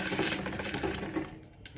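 A Victoria Deltmod model 235 sewing machine runs briefly, its soft, steady whir heard up close before it stops toward the end.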